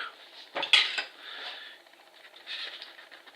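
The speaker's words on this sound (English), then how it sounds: "You stir it up until it's equally uniform." Mixed epoxy glue and hardener being stirred in a small container, a few sharp scraping clinks near the start followed by softer, intermittent scraping and tapping, close and clear with no talk.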